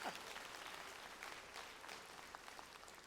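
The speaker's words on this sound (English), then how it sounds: "Let's give her a round of applause." Faint audience applause at a university Founder's Day convocation, a diffuse, continuous patter of many hands heard from a distance, with a brief voice or cheer at the start.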